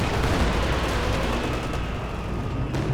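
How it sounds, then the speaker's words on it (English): Soviet Katyusha rocket artillery fires in Company of Heroes 2, a dense, loud barrage of overlapping launch blasts and rumbling booms that holds steady throughout, with no talking. "If it's ready to fire, Katyusha's blasting away."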